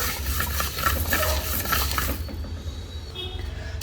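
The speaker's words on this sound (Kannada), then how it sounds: "ಧನಿಯಾ ಕಾಳನ್ನ ಎಷ್ಟು ಚೆನ್ನಾಗಿ ಹುರಿತೀವಿ ಅಷ್ಟು ಚೆನ್ನಾಗಾಗುತ್ತೆ." Coriander seeds dry-roasting and being stirred in a pan for Coorg pork black masala, a soft steady scraping and light sizzle that drops off after about two seconds, with no talking.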